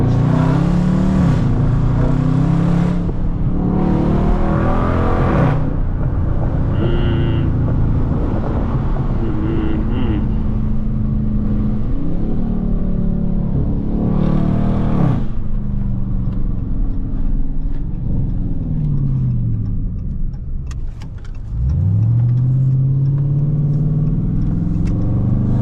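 A Dodge Charger R/T accelerates hard on the road, its loud engine roaring up through rising pulls with gear changes between them, then easing off before surging again, heard close from inside the car.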